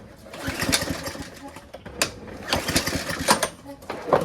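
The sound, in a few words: MTD lawnmower engine running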